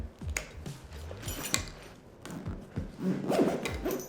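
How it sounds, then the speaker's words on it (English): Nylon strap webbing and a plastic buckle on a ReadyRig Vega rig are handled up close, with soft rubbing and zipping sounds broken by several sharp clicks, and no talking. "Go ahead and grab the strap in the bag and click in."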